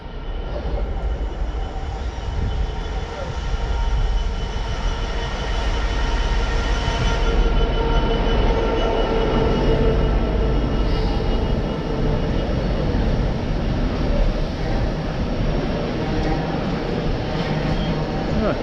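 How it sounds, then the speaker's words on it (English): A Freightliner freight train rolls past with a continuous heavy, rumbling wagon roar that stays loud and steady for the whole stretch. "What a Freightliner. Direct rail services."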